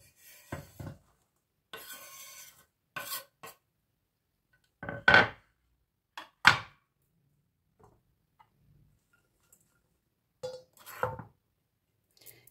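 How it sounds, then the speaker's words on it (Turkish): Garlic is chopped finely with a knife on a board for a spinach dish with minced meat and rice. Scattered clusters of close, dry knife taps come at an irregular pace, separated by quiet pauses. "sarımsağımızı da doğruyoruz küçük küçük"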